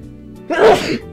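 One sharp, close sneeze bursts out after a moment of quiet hum.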